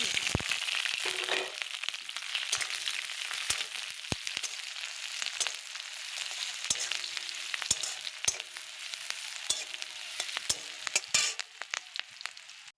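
Onion and green chili fry in hot oil with a continuous bright hiss, peppered with sharp pops and crackles throughout. The sound is close and unaccompanied by speech.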